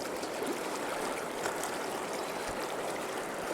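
River water rushes steadily over smooth, slick rocks at a solo crossing, a continuous close wash of broadband flow with no voices over it.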